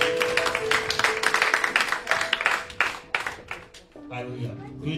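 A church congregation claps rhythmically and applauds in a dense steady patter, with voices and singing mixed in, before the clapping fades and voices carry on.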